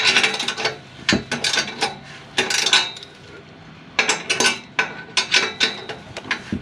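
Metallic clanks and ratcheting clicks from tightening bolts by hand on a Subaru Forester turbo build, coming in quick close bursts separated by short pauses.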